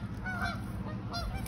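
Geese honk in a few loud, nasal calls close by during a kayaking trip, over a steady outdoor background.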